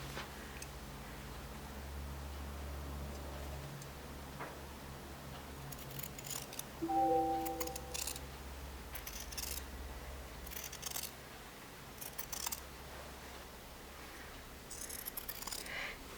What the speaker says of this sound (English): Now what I'll do is just trim it.